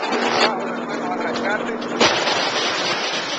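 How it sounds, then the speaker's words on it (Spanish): Two sharp gunshot blasts cut through a constant loud roar, one early and one midway, with shouting voices mixed in. "¡Primer disparo!"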